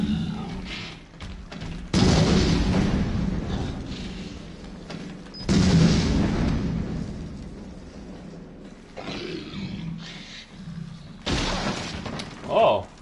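Two loud, roaring blasts in Resident Evil VII: Biohazard with crashing, shattering debris, each fading into a rumble, while voices talk between them.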